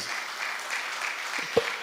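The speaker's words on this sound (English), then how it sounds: "Please, a round of applause for the Honorable Commissioner as he comes forward" An audience at the PUNUKA Annual Lecture 2022 gives faint, distant applause for the Honorable Commissioner as he comes forward, a soft even patter with one brief thump near the end.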